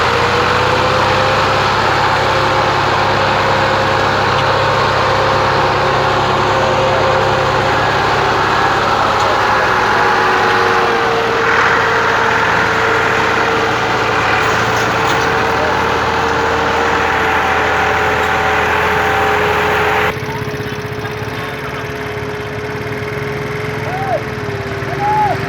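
Two Massey Ferguson MF 260 tractors running together, a loud continuous engine drone with a steady pitch that dips slightly in level near the end.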